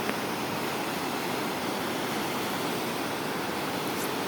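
River water flows in a steady, dense rush, an unbroken wash of noise with no distinct splashes.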